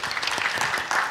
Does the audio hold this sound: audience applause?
yes